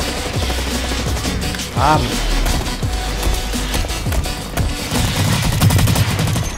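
Video game gunfire in Blacklight Online on PS4, dense rapid automatic bursts nearly continuous and loud and close, with a player briefly exclaiming over the shooting.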